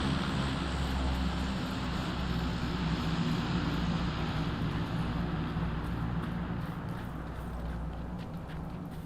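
An airplane engine in PUBG drones in a loud, continuous low roar that holds steady throughout and eases off only slightly near the end.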